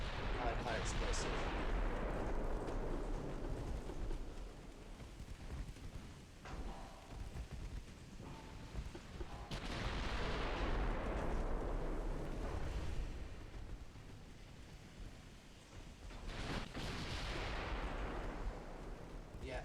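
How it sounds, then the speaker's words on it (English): Naval guns fire high-explosive shells in a warship video game: three heavy booms, each followed by a long rumbling decay over a steady low background roar. "if you're firing against Schwabel with your guns,"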